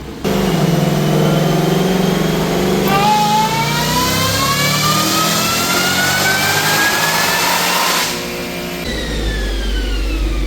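A Roush-supercharged car engine with stock exhaust revs hard on a dyno and climbs steadily in pitch for several seconds, then drops off abruptly and settles back to a lower roar, loud and close.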